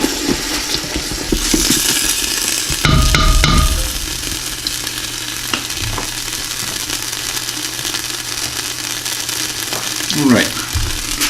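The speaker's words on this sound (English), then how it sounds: "this is a Cabernet Sauvignon. And just going to cook that down a little bit." Red Cabernet Sauvignon wine cooking down in a pan of homemade meat pasta sauce, a steady close sizzle and bubbling with occasional stirring clatter and spoon scrapes.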